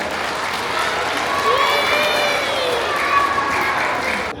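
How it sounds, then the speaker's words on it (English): Students at an elementary school assembly applaud their teachers, a broad, sustained crowd roar of clapping and cheering with raised young voices rising above it. "Give your teachers a round of applause for helping you on your learning adventure."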